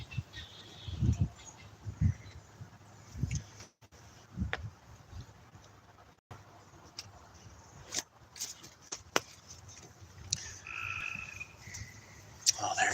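Outdoor frog croaks come in short separate bursts over faint insect and bird background, with a few clicks and knocks nearby.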